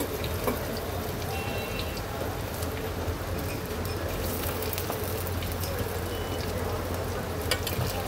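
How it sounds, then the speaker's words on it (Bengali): Golsa fish rubbed with salt and turmeric, frying in hot oil with a steady close sizzle and scattered pops throughout, without voices. "মেখে নেওয়ার পর তেলটা গরম করে মাছগুলো খুব সুন্দর করে ভেজে নেব।"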